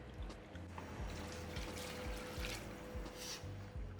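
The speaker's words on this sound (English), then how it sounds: "Now we're gonna put water or stock if you have a stock." Water or stock pours into a pot for kimchi soup, a soft continuous splashing trickle with faint low knocks underneath, quiet and close with no talking.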